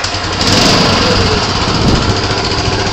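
A small engine on a JMKMT350-2 catches and runs loud and close, a dense steady mechanical roar right from the start with no pauses.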